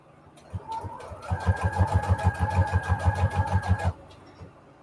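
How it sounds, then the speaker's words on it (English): Sewing machine running a straight stitch at its longest length on fabric scraps for junk journal tags, a fast even rhythmic chatter of needle strokes lasting about three seconds, close and alone after a brief start. "I'm using the straight stitch now in the longest length"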